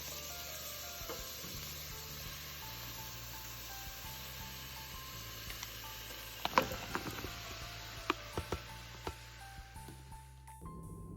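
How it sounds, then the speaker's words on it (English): Onions and peppers sweat with garlic in a pot for a Rasta pasta sauce. A low, steady sizzle runs throughout, with a few sharp clicks and stirring knocks near the end. "Now I'm gonna add my onions and peppers."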